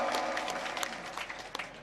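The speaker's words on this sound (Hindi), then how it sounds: "ताली बजा के बताओ" Crowd applause at a political rally in Rajasthan, a dense burst of clapping that starts loud and slowly thins over about two seconds.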